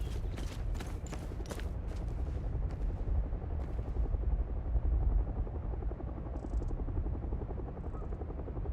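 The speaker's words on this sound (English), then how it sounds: "I think the helicopter's looking for us." A helicopter circles overhead in the Hell is Us video game, its steady, heavy rotor rumble filling the scene with a few sharp mechanical knocks near the start and no talking.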